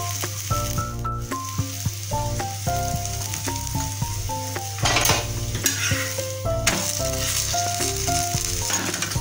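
A cabbage paratha fries in oil on a pan, an even sizzle running throughout beneath soft tonal background music, with occasional spatula taps and bursts of hissing as it is flipped.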